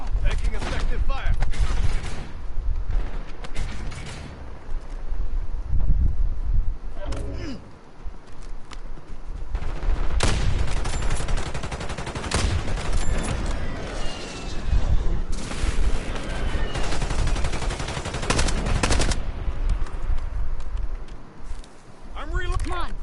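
Call of Duty gunfire crackles in repeated bursts and sustained volleys of shots, loud and close at times, with heavy mechanical clatter and voices talking over much of it.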